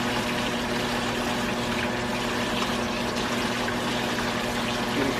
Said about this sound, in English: Just washing off our tongs here.